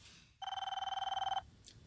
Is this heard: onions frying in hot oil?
no